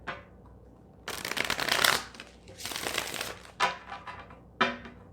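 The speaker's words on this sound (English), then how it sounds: "One more shuffle." Tarot cards being shuffled in several bursts: two long riffling runs followed by two quicker snaps, close up, with no talking.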